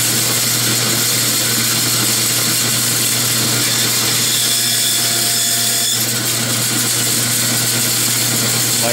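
A bandsaw cuts lead decoy weights, giving a loud, continuous high-pitched whine and buzz that runs the whole time, close by, with slight changes as the blade bites.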